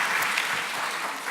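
Brief, steady applause from an audience at a lecture event thanking the speakers, a dense even patter of hands clapping throughout.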